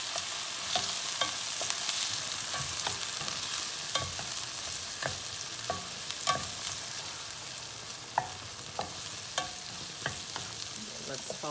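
Eggs are swirled while frying in a pan for shrimp fried rice. Continuous close sizzle carries irregular sharp scrapes and taps of the utensil against the pan, and nobody speaks.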